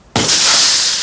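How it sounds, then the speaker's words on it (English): A hammer strikes a piece of toughened glass, a single sudden loud crack followed by a bright, sustained crunching shatter and hiss as the pane breaks apart up close. "This is a piece of toughened glass. I'll show you with this hammer."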